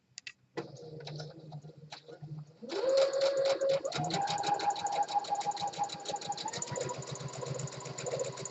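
Sewing machine stitching a flat felled seam on fabric, a few short starts then a steady, fast mechanical whir with rhythmic needle clatter, close and sustained.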